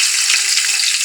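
Rice hits a hot pot of oil and spices for plain pulao, giving a loud, continuous, close-up frying sizzle and hiss with no talking.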